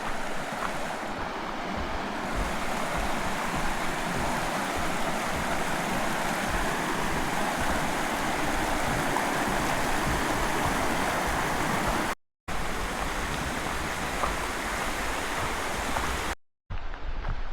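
Creek water rushing beneath a large bridge, a broad continuous roar of flowing water mixed with a wind-like hiss, steady and loud throughout, briefly cut out twice near the end.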